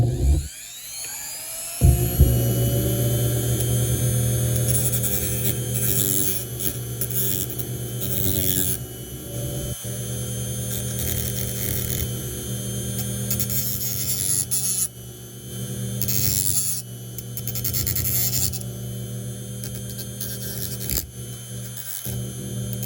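A knife blade is reshaped on a powered grinder, a loud, sustained whining hum with shifting pitch as the steel is pressed in and eased off, running close and continuous with brief dips.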